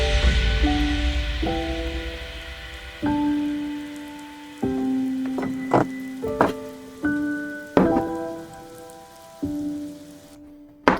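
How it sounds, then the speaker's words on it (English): Steady rain ambience patters beneath a future bass track, layered under sustained piano chords and short melodic notes throughout. "I have the same rain ambience as well here."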